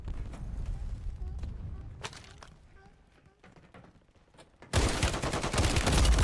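Gunfire from a weapon in a shooting video game fires in separate single shots, sharp cracks scattered over quieter game ambience, before a loud dense burst of noise takes over near the end.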